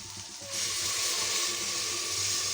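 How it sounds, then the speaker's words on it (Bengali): Water poured into a pressure cooker of rice with biryani masala, a steady close rushing pour that starts abruptly after a brief pause and continues loudly without talk. "এখন আমি পরিমাণ মতো পানি দিয়ে দেব।"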